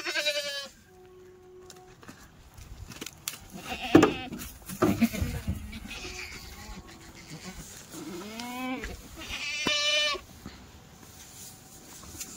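Kathiyawadi goats unloaded from a truck at a live goat sale bleat repeatedly, close and fairly loud, over murmuring voices and background farmyard noise.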